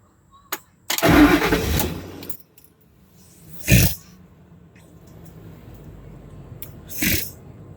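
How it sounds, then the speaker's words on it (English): A car engine cranks and fires up with a loud burst, settles into a low idle, then gives two shorter revving surges, close and clear with no talking. "start the vehicle."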